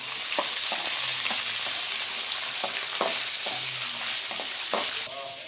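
Green chillies, unpeeled garlic and onion frying in a pan for ridge gourd chutney, a dense steady sizzle with regular spatula taps and scrapes, easing slightly at the end.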